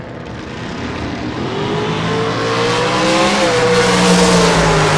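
Drag racing cars, a '63 Nova SS and a dragster, launch at a bracket race with loud, rising engine roars that build steadily and swell to a heavy, close rumble.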